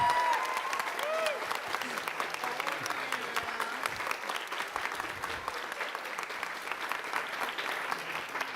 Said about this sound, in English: Clap for them, please.